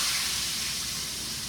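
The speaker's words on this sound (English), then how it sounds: "Sizzle, baby." Pork steak sizzling in a pan on a stove, a loud, steady hiss of frying fat that fills the whole moment with no voices.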